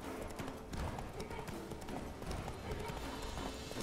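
Horse hooves clip-clop steadily while riding through a forest in The Witcher 3, a continuous rhythmic trot under a dense game soundscape with faint background voices.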